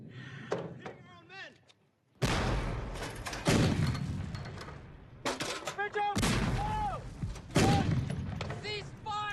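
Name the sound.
gunfire in a war film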